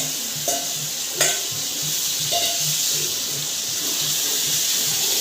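Chicken coated in masala and yogurt is stirred in a pan, with a couple of sharp utensil knocks and scrapes over a continuous wet sizzle, close and unaccompanied by speech.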